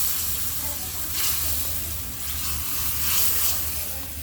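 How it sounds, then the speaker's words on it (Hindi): Hot tempering tipped into a pot of dal, a burst of crackling sizzle and hissing steam that swells and fades in waves over a few seconds. "देखो तड़का हो गया, अब ये इसमें दाल में डालेंगे"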